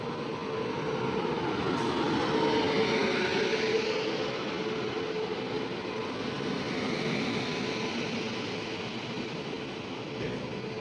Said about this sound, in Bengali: এবার চলো আমাদের ট্রেন ঢুকছে 4টা 35-এ।